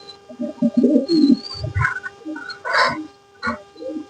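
Pigeons in a pigeon house give a few low, soft coos close by, with a brief higher call and some rustling between them.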